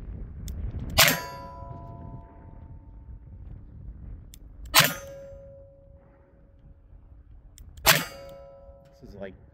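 Three sharp gunshots from a 6-inch Ruger GP100 revolver firing .38 Special rounds, spaced about three to four seconds apart, each a loud crack with a brief ringing tail over quiet outdoor background.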